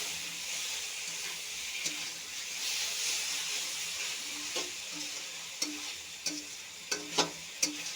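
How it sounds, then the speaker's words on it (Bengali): Vegetables with spices sizzling and frying steadily in oil in a pan, a continuous hiss with a few sharp clinks and scrapes of a stirring spoon toward the end, close by and moderately loud. "সবজিটা দেখো কষানো হয়ে গেছে, একদম তেল উঠে গেছে উপরে।"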